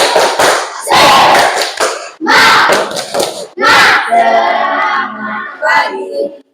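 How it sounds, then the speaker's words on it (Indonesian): A classroom group does a spirited patterned clap, loud rhythmic bursts of hands separated by brief pauses, with shouted voices and chanting mixed in near the end. "silakan tepuk tangan ya untuk kita semua"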